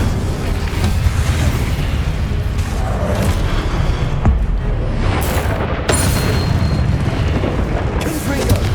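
Incendio fire spell cast in Hogwarts Legacy, heard as loud, dense booming bursts that merge into an almost continuous roar of magical blasts, with a few sharper cracks breaking through.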